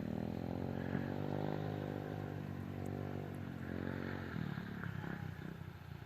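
A dirt bike on a track, its engine droning steadily with a harmonic whine that rises and falls, some distance away and fairly faint.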